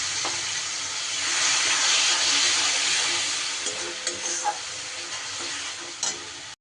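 A little water rinsed from the mixer jar hits spice paste frying in a pan for katla fish dum, causing a loud sizzle that swells and then eases, with a few stirring clinks toward the end.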